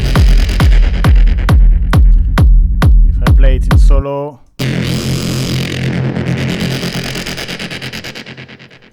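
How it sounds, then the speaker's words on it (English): Crazy techno synth horn, heavily modulated: a string of punchy, buzzing horn stabs repeating in a steady rhythm, then a brief gap and a sustained, wobbling, distorted tone that slowly fades, loud and up front. "Today we are making some crazy techno synth horn that sound like this"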